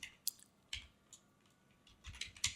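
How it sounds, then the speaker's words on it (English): Keystrokes tap on a computer keyboard while someone writes Spring Boot code, a few scattered clicks that bunch into a quicker, louder burst near the end, close and alone with no voices. "We can just type"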